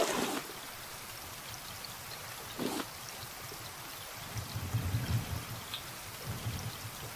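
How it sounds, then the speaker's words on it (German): Rain falling in the survival game Raft makes a steady, even hiss with a few brief splashy pours, continuous and moderately loud, with no voices over it. "Es regnet wieder, das ist schön."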